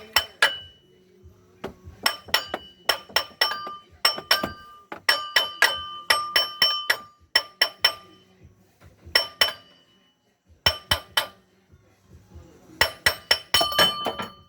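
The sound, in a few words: hammering with a big hammer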